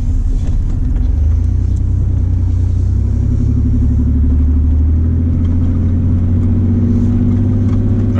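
A straight-piped car engine on a beater car idles and revs, giving a loud, close, deep exhaust rumble that rises in pitch and holds steady, with no talking.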